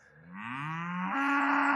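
A cow on a food-forest farm gives one long, rising moo that swells and holds loud and close, heard alone.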